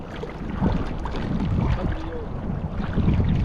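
A steady, low roar of the sea rumbles continuously on an open shore, broad and wind-buffeted, close and fairly loud with no clear breaks.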